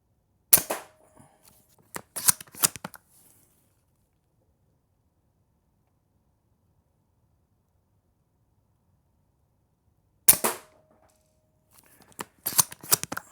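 Sharp snapping shots ring out from a Novritsch SSG11 airsoft sniper rifle, a pair of reports early on, then another after a long silent pause, with faint clicks and handling noises trailing each one.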